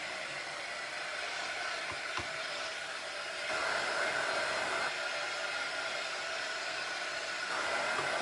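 A hair dryer blows steadily nearby to dry a burnt umber paint stain on a blouse, a continuous airy whoosh that shifts slightly louder partway through, with no talking.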